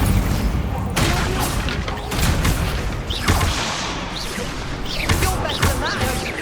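Incendio fire spells cast repeatedly in a Hogwarts Legacy duel, a run of loud whooshing blasts and crashing bursts at irregular intervals over dense combat noise, with some voices mixed in.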